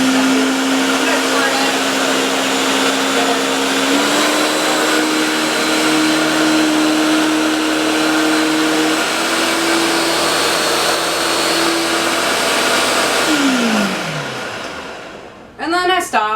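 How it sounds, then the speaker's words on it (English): A blender runs steadily for about thirteen seconds, whirring loudly as it mixes egg, vinegar and oil into mayonnaise, with the motor pitch shifting slightly before it winds down and stops, followed by a few brief knocks. "before we move into the blending, the full blending with the oil."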